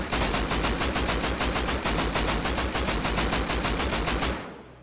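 Rapid automatic gunfire from a high-velocity rifle round in the survival game Rust, a loud, continuous burst of evenly spaced shots for about four seconds before cutting off.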